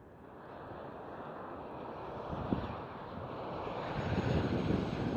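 Faint, distant roar of a Transavia Boeing 737 airliner passing at Schiphol Amsterdam, a soft engine rush with some wind noise that slowly swells toward the end.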